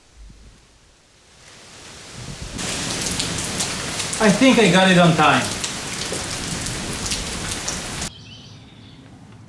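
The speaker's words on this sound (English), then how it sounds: "And then came the rain." Steady rain pours down outside a house under renovation where rotten framing is being cut away, a broad hissing wash that starts after a quiet moment and holds loud and close, with a person speaking briefly over it.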